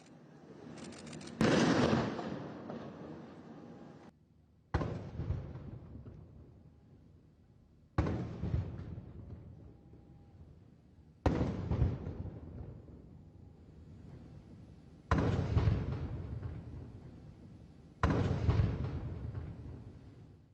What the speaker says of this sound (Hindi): आज पीएम मोदी को 21 तोपों की सलामी दी गई।